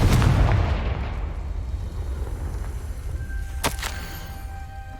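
A Confringo blasting spell explodes in the Hogwarts Legacy video game: a loud, booming burst at the start that decays into a rumbling tail, followed by a brief sharp crackle near the end, with no talking.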